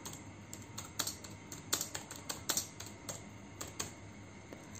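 Rapid keystrokes on a computer keyboard as an HTML page's content is typed, an irregular run of close, crisp clicks with a few louder taps, heard alone without speech.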